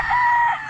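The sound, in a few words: rooster crowing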